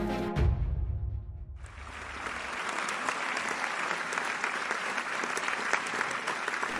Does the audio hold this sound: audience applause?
yes